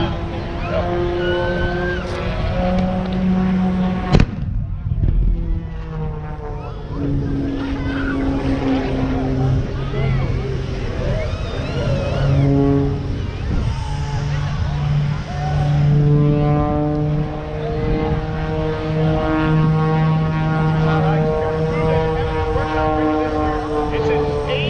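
A propeller-driven aerobatic airplane drones steadily overhead at the Dayton Air Show, its engine pitch swelling and shifting through maneuvers, with people talking over the continuous roar throughout.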